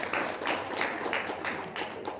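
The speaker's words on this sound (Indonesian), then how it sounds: "tepuk tangan dong, luar biasa" Hands clapping in a small gathering, a brief, light round of roughly rhythmic claps from a few people at close range.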